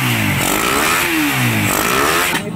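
A motorcycle engine runs loud and close while cold, without rattling or clanking, a rough steady idle with a low rising and falling revving tone that cuts off abruptly near the end.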